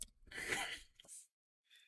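A single sharp sneeze bursts out close to the microphone in a quiet podcast room, followed by a short breathy exhale and then near silence.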